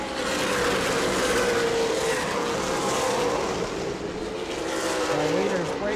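Super late model race cars roar around the oval during an ASA Southern Super Series Governor's Cup 200, a steady loud engine drone with rising and falling pitch as cars pass, a commentator talking over it throughout.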